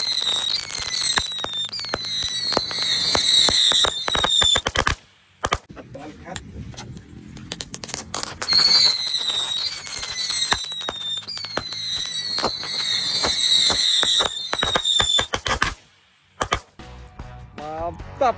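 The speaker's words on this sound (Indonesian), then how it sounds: "terima kasih sudah mengikuti eksperimen menyalakan petasan di dalam botol hari ini." Firecrackers ignited inside a bottle, two bursts of dense crackling pops with shrill whistling, separated by a brief lull and followed by a few scattered cracks.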